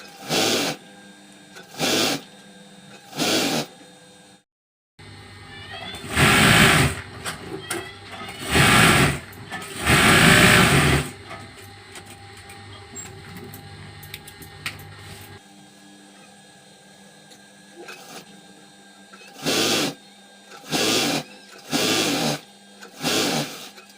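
A sewing machine stitching folded blouse fabric for an embroidered blouse, close and loud. It runs in short repeated bursts, then a longer run of several stitching bursts, a pause, and more short bursts.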